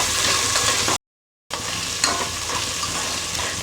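Shallots and green chillies sizzle and are stirred in a pan with ginger-garlic paste for chicken feet soup, a loud continuous fry broken by a brief silent gap.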